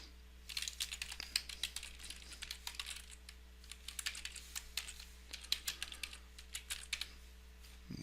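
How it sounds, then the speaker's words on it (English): Rapid typing on a computer keyboard, with close, crisp key clicks in uneven bursts over a faint steady hum, no voices. "So let me go ahead and paste in or type in the email here."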